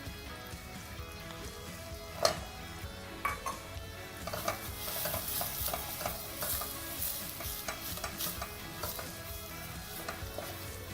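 Half a chilli with onions and garlic frying in a pan for chicken curry, stirred with a utensil: soft sizzling under scattered scrapes and clinks of the spoon against the pan, close and fairly quiet, growing busier partway through.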